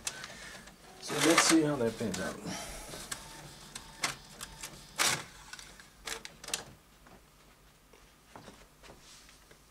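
A printer feeds calendar sheets one at a time. It makes short mechanical whirs and clicks, with a louder burst early on and another later. A person talks over and between the printer noises.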